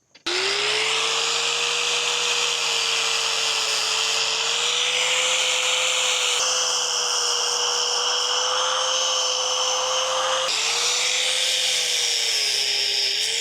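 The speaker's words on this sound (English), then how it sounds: "It will power up the grinder and give me the ability to stay working back here and cut all this barbed wire off." An electric grinder cuts away barbed wire on a farm, running off an EcoFlow DELTA 3 portable power station: a loud, steady motor whine with harsh grinding hiss, unbroken for the whole stretch, no voices.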